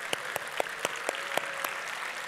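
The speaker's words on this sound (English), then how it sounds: "Thank you for your hearty applause." Faint, sparse clapping from a small audience at an awards show, individual claps spaced out irregularly rather than a full ovation.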